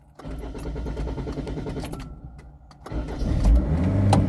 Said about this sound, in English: we would do if the car starts